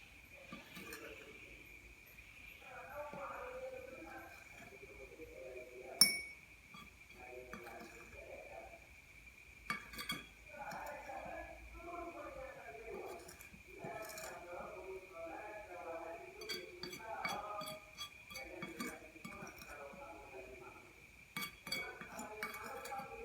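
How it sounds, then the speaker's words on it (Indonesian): Ground coffee is spooned into a drinking glass for a coffee-and-water suspension demonstration, giving a string of light, close clinks and taps against the glass, with a soft voice underneath. "Kita masukkan kopi ke dalam gelas."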